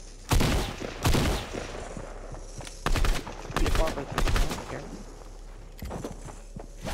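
Assault rifle fire in a first-person shooter, heavy AR rounds cracking out in short bursts and single shots at irregular intervals, fairly loud, with a voice talking in between.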